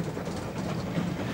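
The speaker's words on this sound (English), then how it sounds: "K1 Mogul 62026 comes up from South Dock on a trip working, heading for one of the Seaham collieries, and passes under the substantial signal gantry." A K1 Mogul steam locomotive, 62026, passes on a trip working beneath a large signal gantry near Seaham collieries, a continuous rumbling roll with faint rhythmic clatter, loud and close, heard briefly.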